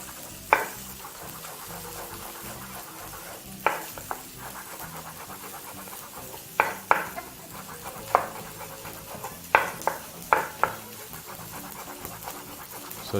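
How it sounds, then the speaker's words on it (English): A knife julienne-cuts carrots into thin strips on a board, sounding as sharp, isolated chops spaced irregularly, some in quick pairs, over a steady low background hiss. "all you're left to do now is to julienne the rest of your carrot"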